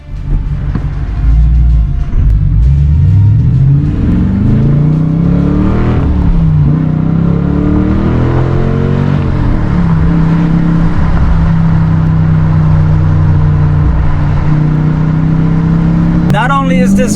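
A 2020 Dodge Challenger R/T with a 5.7-liter V8 Hemi and six-speed manual rumbles loudly and steadily up close, its revs climbing and falling several times before a brief sharp noise at the very end.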